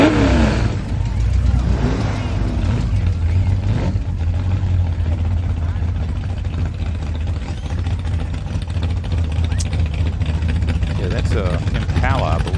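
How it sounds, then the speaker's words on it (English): A Ford Fairlane pulls into traffic during a Long Beach parade, its engine rumbling and revving steadily up close among other running cars, with someone talking over the continuous engine noise. "here pulling into traffic is a Ford, another Ford Fairlane"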